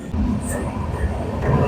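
The 13152 Jammu Tawi Express, running from Gaya to Kolkata and arriving at Koderma Junction in Jharkhand, gives off a steady low rumble from its moving cars, with a faint murmur of background voices mixed in.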